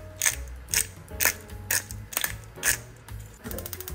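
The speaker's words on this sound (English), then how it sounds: "now that it's patted dry, we're going to add some black pepper" A pepper mill grinds black pepper onto a patted-dry steak in about seven steady, close crunching twists. A quicker rattling grind follows at the end, with no talking.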